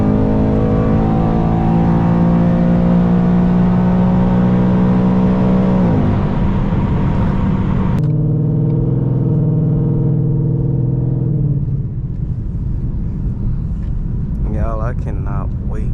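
A Ford Mustang GT drives along with a steady engine drone that shifts pitch as it accelerates and changes gear, heard from inside the car, while someone talks over it at length.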